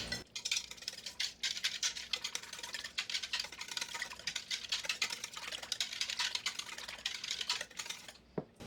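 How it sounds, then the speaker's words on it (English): Rapid, light clicking and tapping of a whisk against a bowl as ingredients are mixed, an irregular, steady pattering close by and fairly quiet. "Now we're just going to whisk it"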